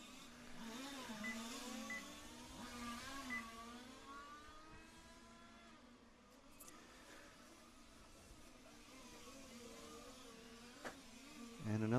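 Electric radio-controlled touring cars racing around a track at a European championship final, their high whining motors rising and falling as they pass at a distance, steady and fairly faint.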